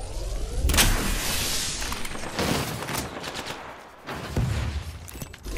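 Heavy gunfire in the video game Apex Legends, dense bursts of rapid shots and booms crowding the scene almost continuously, loud and close, with only a brief lull before firing resumes.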